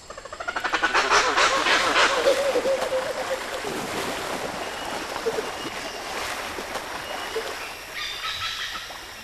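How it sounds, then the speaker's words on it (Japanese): A male Thomas's leaf monkey gives loud, honking alarm calls that warn the group of a tiger. The calls repeat over a dense, hissing forest background. "声を上げて仲間に危険を知らせます。"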